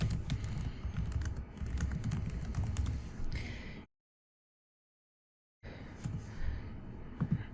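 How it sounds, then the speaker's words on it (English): Fingers typing a book title on a computer keyboard, quick soft clicks in a close, quiet room, broken by a few seconds of complete silence before the tapping resumes. "I'm going to go ahead and literally type in the title"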